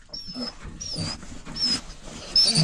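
An excited young Tibetan mastiff or golden retriever whimpers and yips close by in short, eager bursts, with high whining squeals rising between louder barky outbursts.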